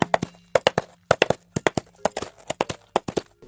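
Hollow clip-clop knocks of coconut shells mimicking horse hooves in a steady trotting rhythm, close and crisp with no talking.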